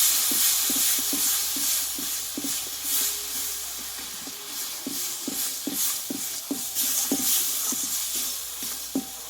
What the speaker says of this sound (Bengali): এই ডালটা এবার মশলার সঙ্গে ভালোভাবে কষিয়ে নেবো